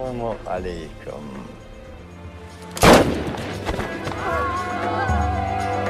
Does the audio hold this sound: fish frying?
no